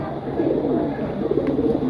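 A pair of red-eyed pigeons coo steadily in a soft, continuous low murmur from close by, with no voices over it.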